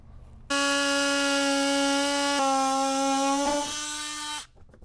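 A power blade cutting around a Mercedes Sprinter front bumper gives a loud, steady high-pitched buzzing whine that starts abruptly, shifts pitch slightly midway and stops after about four seconds.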